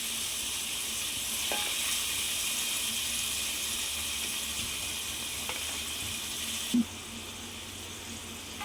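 Paneer pieces seasoned with turmeric, salt and chili fry in a pan, giving a steady sizzling hiss throughout with a few soft clinks and a brief scrape near the end.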